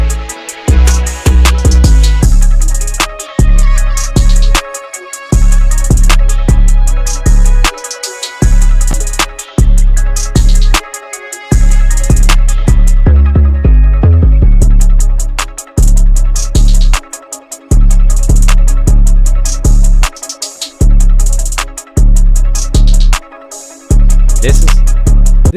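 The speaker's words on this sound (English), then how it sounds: "This is a good like level of crisp clipping," Hip-hop beat pushed into crisp clipping distortion, loud and saturated, with punchy kicks and gritty drums looping in a steady rhythm and brief dropouts between bars.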